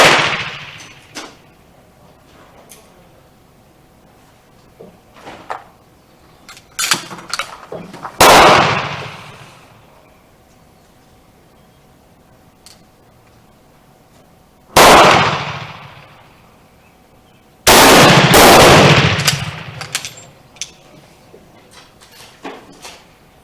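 A Model 1916 Berthier rifle firing once-fired, neck-sized reloaded cartridges outdoors, with three loud, sharp shots spaced several seconds apart, plus quieter clicks and clatter of the bolt and handling between them.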